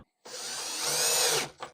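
A power drill drives screws into the bottom of a kitchen cabinet, giving one close, loud, sustained whir that rises slightly in pitch before cutting off, then a short final burst.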